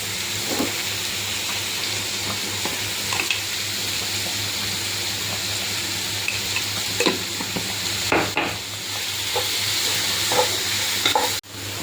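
Onions for an egg curry sauté in a pan with a steady close sizzle, broken by repeated scraping and clicking strokes of a spoon stirring them.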